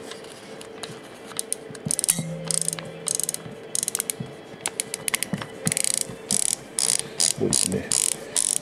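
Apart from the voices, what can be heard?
film being wound in a Konica Pearl III camera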